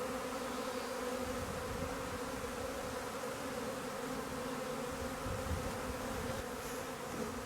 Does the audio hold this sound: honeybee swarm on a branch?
yes